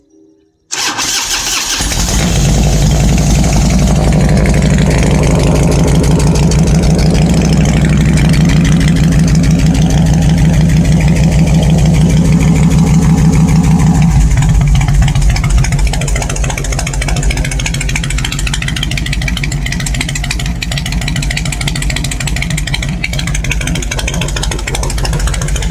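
A Harley-Davidson Road King motorcycle engine with the choke on cranks and catches after a short silence, then settles into a loud, steady, close-up idle for the rest of the clip, with no talking.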